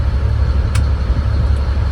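A truck engine idles as heard from inside the cab during a pre-trip inspection, a steady low rumble with no change in pace and a brief faint click partway through.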